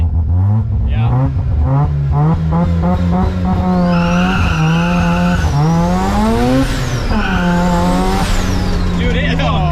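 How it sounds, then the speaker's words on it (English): Rotary-engined Datsun launching hard with both rear tires spinning, the engine revving high and rising steadily in pitch over a constant loud roar with tire squeal for nearly ten seconds, voices talking over it. "it may be twice as fast now that we have two tires spinning"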